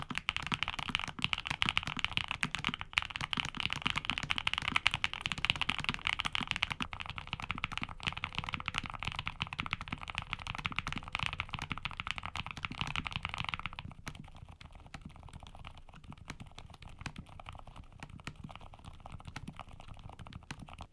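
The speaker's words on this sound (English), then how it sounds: "here's a quick sound test between these 3 variants." Continuous rapid typing on a NuPhy Air75 V3 low-profile mechanical keyboard, crisp clicky keystrokes in a steady stream, growing slightly quieter and softer toward the end.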